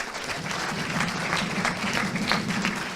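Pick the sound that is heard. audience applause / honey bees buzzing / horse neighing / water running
audience applause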